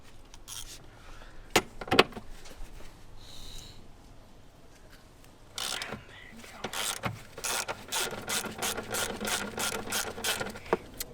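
Socket wrench working a tough 14mm center bolt on the valve cover of an E90 BMW 335i with N54 engine, a run of sharp ratcheting clicks, scattered at first and then rapid and regular, close up with a quiet background.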